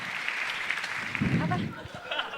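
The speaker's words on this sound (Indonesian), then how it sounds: "tepuk tangan dulu dong" Audience applause at an Indonesian stand-up comedy show, a steady wash of clapping through the whole stretch with voices and a bit of laughter rising over it midway.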